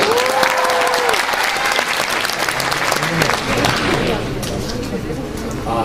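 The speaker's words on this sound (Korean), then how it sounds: "이럴 때 박수 주셔야 돼요" Large audience at a public-sector job fair in Gwangju and Jeonnam breaking into sustained, dense applause, loud and even, with a voice briefly heard over it.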